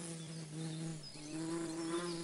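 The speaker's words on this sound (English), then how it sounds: "A bee?" Cartoon bee buzzing with a steady droning hum that wavers slightly in pitch, close and fairly loud, continuous throughout with no talking.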